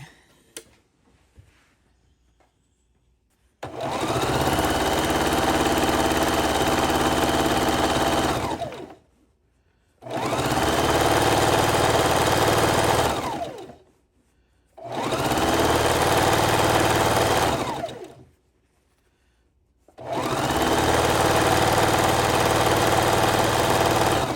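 A sewing machine stitches rows of scrappy quilt pieces together in four long runs of steady whirring, each lasting several seconds and separated by short pauses, close and loud with no talking.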